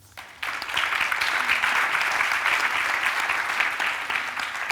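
A conference audience breaks into sustained applause for a speaker. The clapping starts abruptly, then stays dense, loud and steady throughout with no voices over it.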